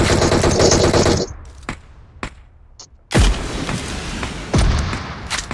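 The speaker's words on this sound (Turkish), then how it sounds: "Biri bana sıkıyor" Gunfire in PUBG Mobile: a loud automatic burst, a few sharp single shots in a quieter gap, then two more heavy close bursts.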